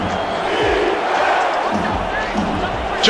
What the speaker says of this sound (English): Crowd on their feet for defense.